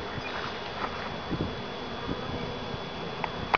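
Honey bees at an Italian hive in a home apiary make a continuous, fairly soft buzzing hum with a few louder passes near the microphone. No one speaks.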